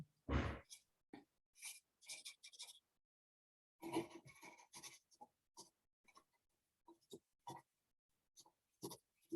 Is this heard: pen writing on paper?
yes